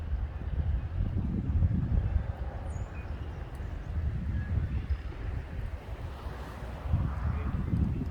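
Strong wind buffets the microphone in gusts while fishing for panfish, a heavy low roar that swells and eases, with faint water and boat noise beneath.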